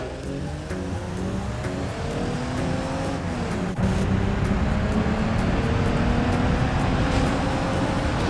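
Car accelerating in a BeamNG brake test on a slippery surface, rising engine tones climbing through gears, then a sharp shift into a louder, sustained roar with road and wind noise.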